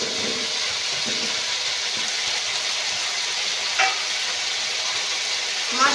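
Cubed taro and potato sautéing in spiced oil, a steady close hiss of frying with a few soft scrapes and clinks partway through and near the end, no voices.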